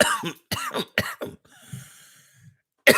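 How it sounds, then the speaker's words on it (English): A few harsh coughs in quick succession, close by, followed by a breathy throat-clearing rasp, then another cough starting at the end. "the shit in here actually makes me cough"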